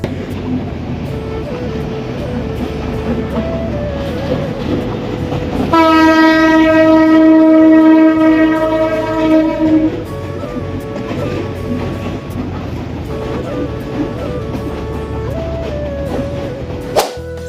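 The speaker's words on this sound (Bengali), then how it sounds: "আর ওই পাশ দিয়ে ব্রিজ দিয়ে ট্রেন যাচ্ছিল আর ট্রেনের শ্যুটটা নিলাম।" A train crosses a railway bridge with a continuous rumble and rattle of cars. A loud, sustained horn blast sounds for about four seconds midway, then the rolling clatter carries on.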